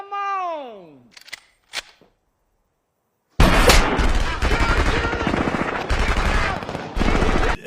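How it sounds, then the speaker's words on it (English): Rapid bursts of gunfire rattle continuously and loudly after a short opening of a descending tone and a couple of sharp hits. "there's a firefight that goes on through half the movie."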